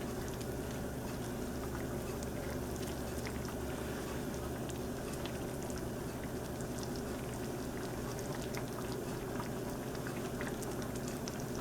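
A pot of grits simmers on the stove as it is stirred, a steady low bubbling and soft patter that holds evenly throughout, faint and continuous with no voices.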